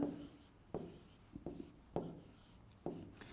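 Strokes of handwriting on a board or paper during a math lesson on dividing decimals, coming as five or six distinct scratchy bursts with short pauses between them, close and fairly quiet, with no talking.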